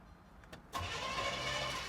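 An old Chevelle, abandoned in a barn for 24 years, is cranked over. A quiet lead-in gives way to a sudden, loud, sustained mechanical roar of the engine spinning.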